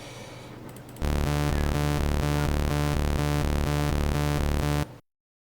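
An 8-bit chiptune bass line made in FL Studio, bouncing in octaves between F2 and F3 in a fast, even pulse. It starts after a second of low noise, stays loud and buzzy, then cuts off abruptly near the end.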